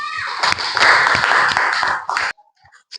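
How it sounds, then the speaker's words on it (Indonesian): A classroom of eighth-grade students applauds a classmate, dense clapping from many hands filling the room for about two seconds before stopping abruptly, followed by a few faint scattered sounds. "Nah, kasih aplaus untuk Alvano"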